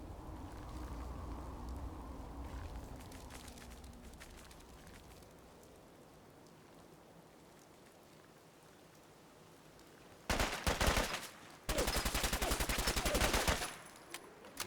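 Bursts of automatic gunfire from a Fallout 4 firefight ring out loud and close near the end, two dense volleys of rapid shots after a stretch of quieter ambient game sound.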